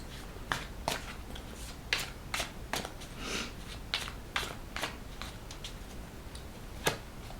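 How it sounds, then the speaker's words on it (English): Tarot cards are shuffled alone in a quiet room, with soft irregular riffling and sharp flicking taps coming in quick uneven bursts. "Let's shuffle."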